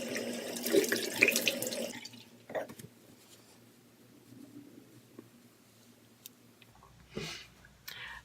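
Tap water running into a bathroom sink during face washing, a loud stream for about two seconds, then quiet splashes and drips with a brief final burst of water.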